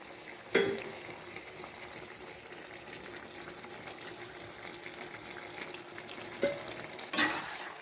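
A hotel-style chicken gravy cooks quietly in a pan with a low bubbling sizzle, and a couple of clanks of a utensil against the pan come near the start and the end.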